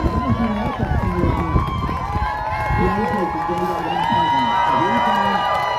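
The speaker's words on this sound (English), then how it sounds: "Look at that, the crowd going wild as if this team won." A crowd cheers and whoops at the finish line of a sled dog race on 4th Avenue, a loud, continuous wash of yells and shouts with an announcer talking over it.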